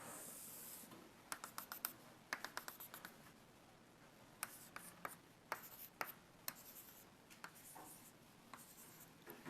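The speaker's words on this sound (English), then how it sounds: "For my second picture, I'm going to draw what's happening to AB." A pen scratching on paper while a free body diagram of a pinned member is drawn by hand, quiet close strokes in irregular bursts with short pauses between them.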